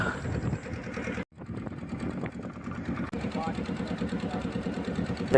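A trawler engine chugs steadily in a fast, rhythmic throb while a voice talks over it, with a brief dropout partway through, on the water by the Sundarbans near the Bay of Bengal.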